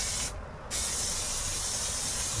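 A spray paint can hisses loudly and steadily while coating the lower legs of a bicycle suspension fork, broken by one short pause before the spray resumes.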